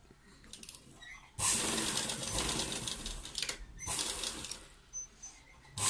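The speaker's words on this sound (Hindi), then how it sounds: "बस अब हम इसको करते हैं सिलना शुरू।" A sewing machine stitches folded fabric sleeve strips in two loud, fast, whirring bursts separated by a short pause, with quieter handling noises before and between them.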